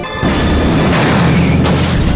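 A bomb hidden in a car explodes in a movie scene, a loud deep boom that rolls on as a sustained rumbling blast across the whole moment, with a sharp crack near the end.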